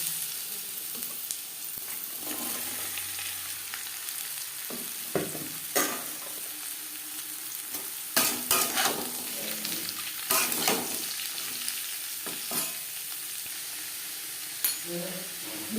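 Beetroot and carrot fry in oil with a close, hissing sizzle while a spoon scrapes and knocks the pan in irregular bursts.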